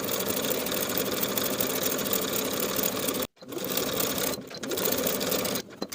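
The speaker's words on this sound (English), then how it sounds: "Sew the crotch curve with a 1/2 inch seam allowance and press that seam open." A sewing machine runs steadily while stitching a crotch curve seam on lined cigarette pants, a fast even whirring close by that stops briefly twice before resuming.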